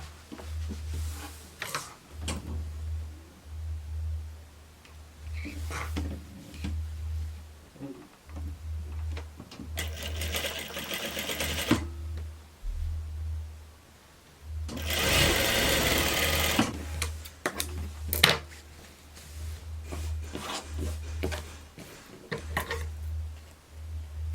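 A domestic sewing machine stitches a chemise seam for finishing, running in steady bursts of whirring near the listener with short pauses between runs and louder, denser stretches in the middle.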